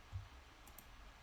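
A pair of quick, faint clicks from a computer mouse, close up and alone against a quiet background hum.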